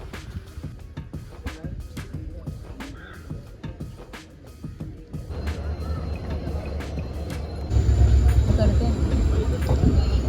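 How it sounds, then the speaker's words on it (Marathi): A train pulls out of Sawantwadi station, its low rumble and rolling clatter building in loudness and swelling further near the end, while crows caw and people talk over the noise. "तर आता आम्हीची ट्रेन सुटली आहे सावंतवाडीवरून"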